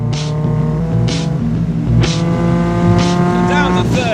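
A race car on track drops down to third gear and turns into a corner, its engine note blipping and shifting pitch in a steady, loud drone with brief bursts of wind roar.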